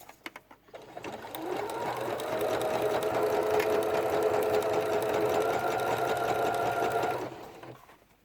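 Sewing machine stitching a facing onto jersey fabric runs in one steady, continuous whir for about six seconds, starting and stopping cleanly, fairly soft and close, with no talk.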